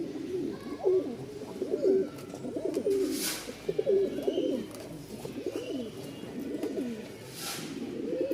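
A black male Giribaz pigeon, held close by hand, gives a repeated throaty cooing call in a steady rhythm of rolling phrases, loud and near, with no talking over it.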